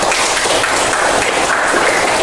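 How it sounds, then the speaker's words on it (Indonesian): Classroom students applaud together, a steady, dense wash of clapping that stays loud and even throughout the brief burst. "kasih aplaus dulu"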